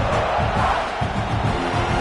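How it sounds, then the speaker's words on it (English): Roaring football stadium crowd at a Nebraska at South Carolina college game, a dense, loud, continuous wash of cheering and shouting that holds steady throughout. "This crowd bringing the energy and noise early."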